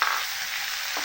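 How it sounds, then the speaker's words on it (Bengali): Sauces fry with browned onions in a pan while vegetable roll filling is prepared, giving a steady, close hiss of sizzling with a faint stir near the end, no voices. "সসটা একটু ভেজে নেব।"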